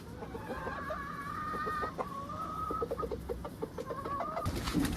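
Native backyard-farm chickens cluck and call steadily in a busy, close chorus, with several birds overlapping throughout.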